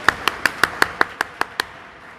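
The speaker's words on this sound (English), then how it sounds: "If you're happy and you know it, clap your hands." Nine evenly spaced hand claps ring out in a quick, steady rhythm at a Pride flag raising ceremony, crisp and moderately close before stopping, with no voices over them.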